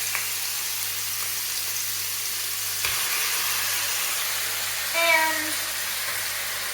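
Beef sizzles in a frying pan for Portuguese pica-pau, a steady close hiss and crackle that runs throughout, with a brief voice near the end.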